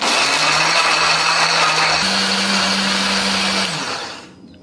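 Kitchen blender grinds chilli, candlenut, turmeric, ginger, garlic and shallots with a little water, a loud steady whirring motor hum whose pitch steps up once before spinning down and stopping.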